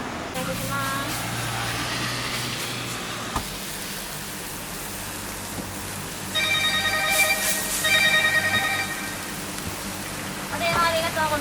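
A telephone rings in bursts of bright, repeating tones with a reservation call coming in at a jumbo yakitori food truck, over a constant hiss and faint voices in the background.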